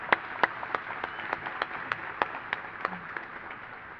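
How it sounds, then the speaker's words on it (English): At a youth character awards ceremony, clapping sounds as evenly spaced, crisp claps in a steady rhythm, fairly sparse rather than a full roar, against quiet room background. "give her a round of applause"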